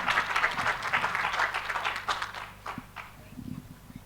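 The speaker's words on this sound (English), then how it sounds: "A round of applause for that warrior for good" Audience applause at a summit session, a dense wash of many hands clapping that starts loud and gradually thins out, with a few louder claps near the end.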